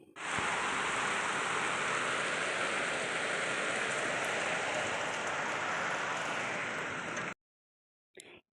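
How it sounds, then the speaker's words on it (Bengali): Heavy rain with a storm pours down in a dense, steady hiss for several seconds, then cuts off abruptly, followed by a brief burst. "প্রচণ্ড জোরে বৃষ্টি আর ঝড় হতে শুরু হয়"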